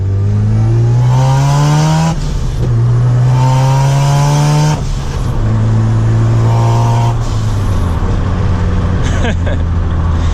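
A Mazda RX-7 FC3S turbo engine pulls hard under acceleration, rising in pitch through several gears with short dips at each shift, loud and close from inside the car.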